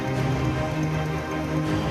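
Heavy, continuous monsoon rain pouring down in Gujarat, a dense steady hiss of drops hitting surfaces with no pauses.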